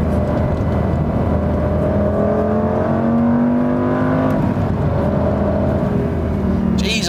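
A Mk1 Lamborghini Gallardo Superleggera engine heard from inside the cabin, a loud, steady drone whose pitch swings up and down as the revs change on a downshift.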